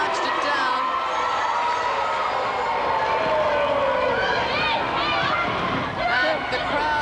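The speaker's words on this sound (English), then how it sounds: "And the crowd is quite vigorous." Crowd at a netball final between Australia and New Zealand, a loud, continuous roar of cheering and shouting with a commentator's voice running over it.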